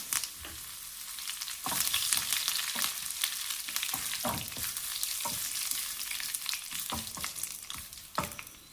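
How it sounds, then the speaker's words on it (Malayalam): Curry leaves and dried red chillies frying in coconut oil, a bright steady hiss of hot oil with occasional spoon scrapes and soft knocks against the pan, near and without voices. "കറിവേപ്പിലയും പറ്റൽമുളകൊക്കെ മൂത്തിട്ടുണ്ട്"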